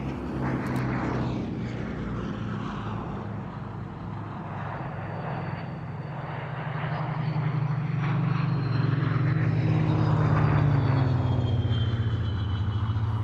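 A Hawker Hurricane fighter makes a flypast at the Duxford Battle of Britain air show, its piston engine a loud, sustained propeller drone that swells and deepens as it passes overhead, with no talk.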